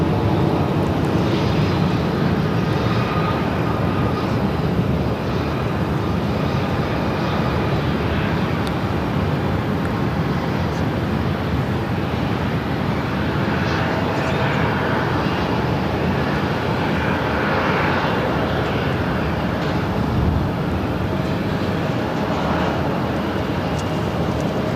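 A Spirit Airlines Airbus A320neo arrives on runway 8 at Phoenix airport, a steady loud roar of jet engines holding throughout with a broad rushing hiss and no talking.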